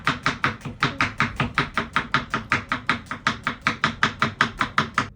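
Knife chopping ingredients for Ambur biryani on a board, a steady rapid run of close, crisp strokes, about four per second, with no voices.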